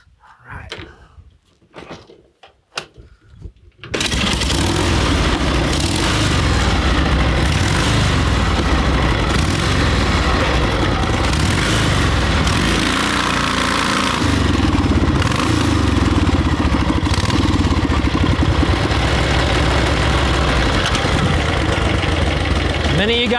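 A motorcycle nicknamed the Big Fish runs steady and loud at close range, its engine note continuous after a few seconds of quieter knocks and shuffling at the start.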